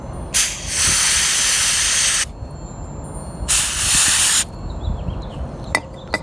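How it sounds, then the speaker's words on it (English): CRC mass airflow sensor cleaner sprayed onto the mass airflow sensor of a 2002 Toyota Camry 3.0L 1MZ-FE engine: two loud close aerosol bursts of hiss, each about two seconds and one second long, followed by faint small clicks. "what we're going to use to clean it is the mass airflow sensor cleaner, CRC here"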